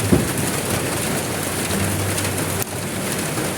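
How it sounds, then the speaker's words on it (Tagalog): Heavy rain pours steadily onto a leaking roof during the rainy season, a dense, loud, continuous hiss with a low hum beneath and one brief sharp knock partway through. "Inabot na tayo ng ulan, guys."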